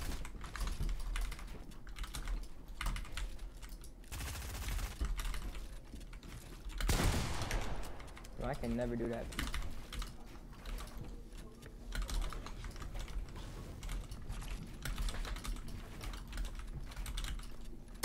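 Rapid clicking of keystrokes on a computer keyboard during a Fortnite session runs steadily throughout, mixed with in-game gunfire bursts and a brief spoken line.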